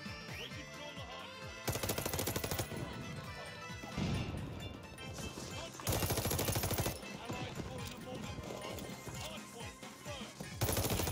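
Rapid bursts of automatic gunfire ring out in Call of Duty Vanguard, several loud sustained volleys with sharp single shots and impacts between them, under a player's excited talking.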